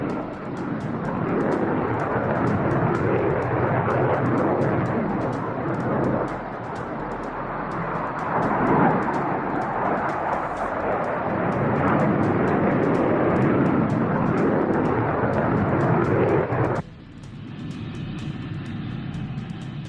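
An F-100 Super Sabre jet fighter roars steadily overhead, a loud broadband engine rush that holds for most of the stretch before dropping abruptly to a quieter rumble near the end.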